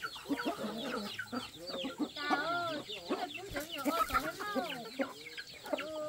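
Chickens cluck at feeding time with a dense, busy chorus of short calls and squawks close by, several birds overlapping continuously throughout.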